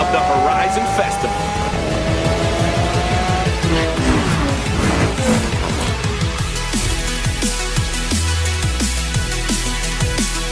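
Racing game Forza Horizon 3 set in Australia: loud, continuous car engine revving with gear-shift sweeps and tire squeal, layered over energetic festival music throughout.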